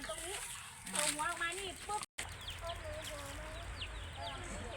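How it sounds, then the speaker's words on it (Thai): Chickens cluck and chatter over a steady outdoor background, with people talking intermittently nearby and a brief dropout midway. "เพิ่นเลี้ยงไก่หลายตัวเห็นไหม"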